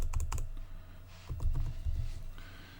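Computer keyboard arrow keys are tapped in quick bursts while editing type in Adobe Illustrator, close, crisp clicks in uneven clusters with brief pauses between them.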